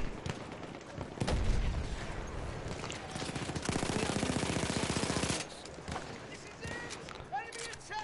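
Rapid automatic gunfire in an online multiplayer shooter game comes as a sustained burst of fast repeated shots in the middle, with scattered single shots around it and voices talking over much of it.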